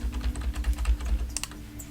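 Rapid clicking of square bracket keys pressed on a computer keyboard during photo editing, a steady run of close, distinct taps with a low hum underneath.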